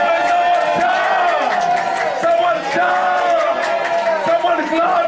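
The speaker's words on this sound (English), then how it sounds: "May someone shout the shout of Jericho." A church congregation shouts together in a loud, sustained roar of many voices, with whoops and cries rising and falling over the full few seconds.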